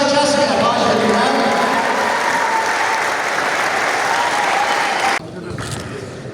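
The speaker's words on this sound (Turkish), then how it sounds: "Bir güzel alkışları kesmeye başlayalım." Sustained applause from an audience at a ceremony honouring a legendary scout in Aghdam, steady and dense for about five seconds before dropping to a thinner patter.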